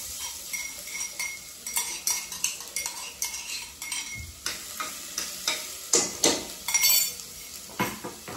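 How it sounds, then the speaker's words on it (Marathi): Ginger-garlic paste fries in hot oil for a spicy mutton curry, a steady sizzle under repeated clinks and scrapes of a spoon stirring against the pan, close and continuous. "तेलामध्ये आपण अद्रक लसूणची पेस्ट टाकतोय"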